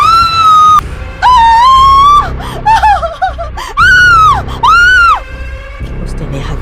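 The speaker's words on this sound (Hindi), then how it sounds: "उसने अपना मुंह फाड़ा और जोर से चिल्लाया।" Screams in a horror story, several loud, drawn-out, high-pitched shrieks broken by short gaps and gasping sounds.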